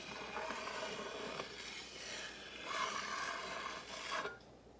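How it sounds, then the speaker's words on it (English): A bench scraper drags steadily around buttercream frosting on a cake, making a soft continuous rasping hiss that swells slightly midway and stops abruptly near the end, quiet and close. "I clean the bench scraper and do it again"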